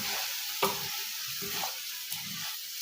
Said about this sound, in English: just stir for like 1 minute